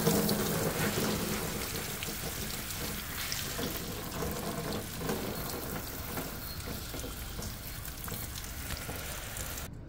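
Water from a hose rinsing potted orchid plants in a garden, a steady hissing spray that fades slightly over time and stops abruptly at the end, no voices.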